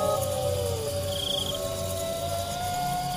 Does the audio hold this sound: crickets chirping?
yes